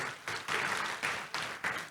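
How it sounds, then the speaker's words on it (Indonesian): A church congregation applauds during a Sunday service, with dense, lively clapping that comes in uneven surges, rising and easing several times. "Kasih tepuk tangan yang meriah untuk Tuhan Yesus."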